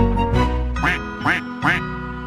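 Three rhythmic, regular quacks in a row sound over a steady musical backing in a children's duck song, likely sung or imitated rather than a real duck.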